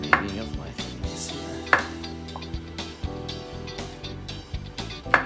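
Vegetables being chopped on a cutting board for a pork stir fry, with a handful of sharp knife strikes landing at irregular intervals over a steady background of kitchen clatter.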